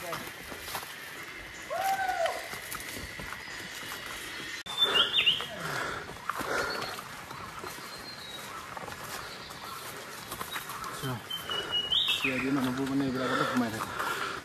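Scattered bird calls ring out in jungle along a trail, brief chirps and whistles over a quiet outdoor background, with people talking now and then.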